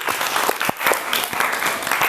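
Classroom applause for students after group presentations, a continuous close patter of many hands clapping with no talk over it.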